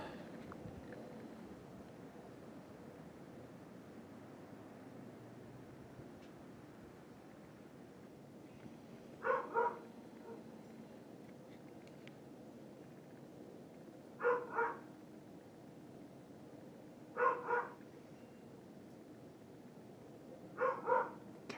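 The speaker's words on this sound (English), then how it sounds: "as you can hear him barking in the house" Indoors, a dog barks in four short clusters of two or three yips, muffled and fairly distant through the walls, over a quiet, cold outdoor background.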